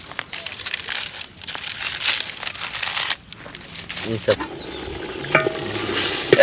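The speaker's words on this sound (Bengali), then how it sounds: "এখন আমরা গোস্তটাকে ভালো করে কষিয়ে নিব" Duck meat for a traditional Bangladeshi village-style duck curry being sautéed and stirred in a pot outdoors, with crackling sizzle and scraping stirs close by, under occasional talk.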